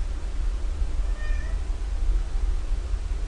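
A cat gives one faint, brief meow partway through, nearly buried under a steady low hum and room noise.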